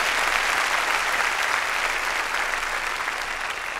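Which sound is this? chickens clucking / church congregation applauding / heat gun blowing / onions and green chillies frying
church congregation applauding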